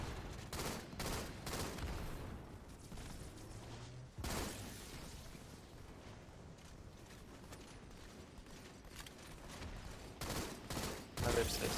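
Gunfire in a shooter video game: bursts of rapid shots and louder single reports at irregular intervals over faint background game noise, fairly quiet overall.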